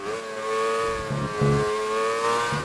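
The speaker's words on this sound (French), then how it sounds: "on entend le moteur se soulager, le freinage de l'épingle qui se passe en première" An F1 race car in the F1 2019 video game at Albert Park brakes for the hairpin, its engine note falling and lifting in short bursts as it downshifts, loud and close.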